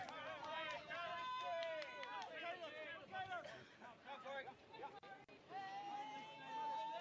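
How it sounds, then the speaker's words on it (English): Crowd at a softball park during a New Zealand v Australia men's under-23 qualifier game, a steady babble of many voices with shouts and cheers rising and falling, fairly close and loud throughout. "it's a nice little crowd out there"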